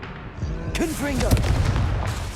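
Confringo blasting spell blasts from Hogwarts Legacy, sharp booming bursts in quick succession amid spell-casting effects, with a voice speaking over the action.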